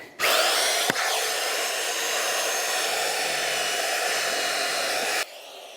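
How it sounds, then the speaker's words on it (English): A magnetic drill whines at a steady high pitch for about five seconds, loud and close, boring into 6mm steel plate, with a sharp knock early on before it cuts off abruptly. "The issue with the mag drill is it's 6mm steel"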